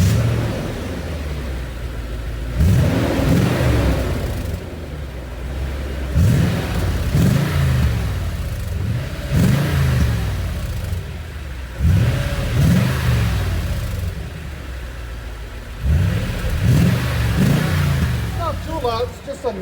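Toyota Tundra 5.7L i-FORCE V8 with a loud aftermarket exhaust, revved repeatedly in deep, booming surges that rise and fall in a steady pattern, close and loud, with voices partly underneath.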